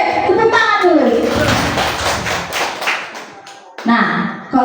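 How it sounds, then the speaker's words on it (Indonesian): Schoolchildren in a classroom clap their hands together, a dense burst of patter with thumps and voices mixed in, close and loud, then a brief pause and a final flurry. "Oke, tepuk tangan dulu."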